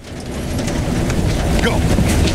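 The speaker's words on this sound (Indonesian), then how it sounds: "disamari oleh bunyi hujan" Steady rain falls over a Burmese headquarters compound during a military mission, a continuous broadband wash that builds slightly louder and stays dense throughout, with no clear talk over it.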